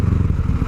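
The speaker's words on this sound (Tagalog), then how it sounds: "Kasi ibang iba talaga yung tunog ng motor natin" A motorcycle engine running on Petron gasoline chugs loudly and close in a rapid, uneven low rumble over a fraction of a second.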